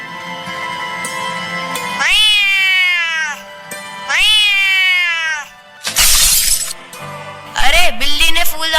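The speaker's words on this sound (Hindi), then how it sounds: "अरे बिल्ली ने फूलदान तोड़ दिया।" Close, loud drawn-out cat meows, two long wails, then a sharp crash of a breaking vase, followed by another meow, staged at an annual day school performance with no speech.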